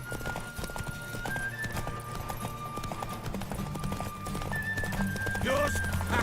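Rhythmic hoofbeats clip-clop steadily under music in the video game The Witcher 3: Wild Hunt, and a horse neighs and whinnies a couple of times near the end.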